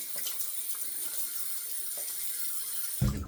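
Tap water runs steadily into a sink while a KAMPFE A99 aluminum safety razor is rinsed beneath it, a continuous close hiss that ends in a sudden louder splash as the flow is disturbed.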